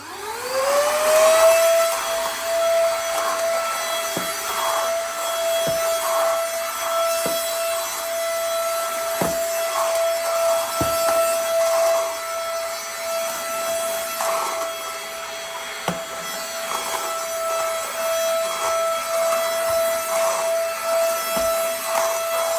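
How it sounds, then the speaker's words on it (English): A handheld vacuum cleaner from a car interior detailing kit whirs up and runs steadily with a high motor whine, close by, broken by occasional small clicks and knocks. "It transformed into a vacuum now."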